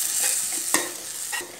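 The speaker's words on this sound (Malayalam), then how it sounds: "റെഡിയാക്കി വെച്ചിരിക്കുന്ന മസാല ഇതിലേക്ക് ചേർത്ത് കൊടുക്കാം. ഇത് നന്നായിട്ട് നമുക്ക് ഒന്ന് വരട്ടിയെടുക്കണം." Masala for squid (koonthal) masala roasts in a pan over low heat, with close, steady sizzling and a few scraping stirs of the spoon standing out.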